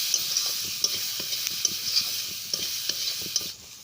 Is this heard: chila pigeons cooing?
no